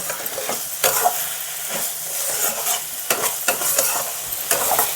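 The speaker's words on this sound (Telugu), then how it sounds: "బాగా ఫ్రై అవ్వని" Oil sizzles steadily in a pan with repeated scraping strokes of a spoon stirring, close and continuous, no voices.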